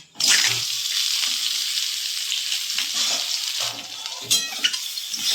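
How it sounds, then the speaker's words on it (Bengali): Mango pieces coated with salt and turmeric are stirred in hot oil with dried chilli for a sweet Bengali jaggery mango pickle, giving a loud steady sizzle with scraping stir strokes near and alone. "এত নুন হলুদ মাখানোই ছিল, আমটাকে একটু আমি নাড়াচাড়া করে নিচ্ছি।"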